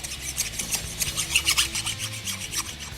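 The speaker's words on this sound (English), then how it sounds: "Even though it's a new ring, you want to go around the outside edge with a file." A hand file rasps around the outside edge of a new Ford 8.8 rear axle ring gear, with quick rhythmic back-and-forth strokes, close and moderately loud, alone.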